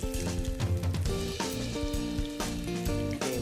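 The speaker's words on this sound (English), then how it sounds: "we're going to place that on our hot oil" A veg patty fries in hot oil, giving a steady crackling sizzle close up, blended with background music throughout.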